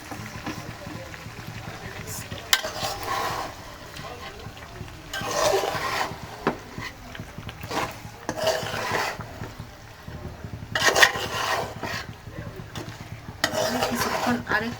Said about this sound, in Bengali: এখন আরেকটু সময় পেঁয়াজটার আলুটা কষাবো